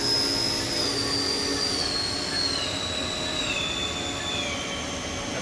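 The spindle of a Haas VF-3 vertical machining center spins steadily at speed, a continuous loud whirring whine with high pitched tones that drift slightly, unbroken and close for the whole stretch.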